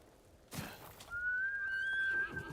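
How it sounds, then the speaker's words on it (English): A horse in Ghost of Tsushima gives a clear, rising whinny lasting over a second, preceded by a brief hoof thud, fairly close and alone. "Where's my horse?"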